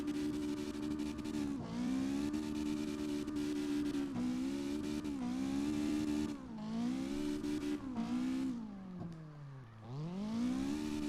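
Engine of an MR2 drift car in CarX Drift Racing Online drones steadily at high revs, dipping and climbing repeatedly as the throttle lifts and reapplies, with a deep drop near the end before revving back up; loud and continuous, no talking.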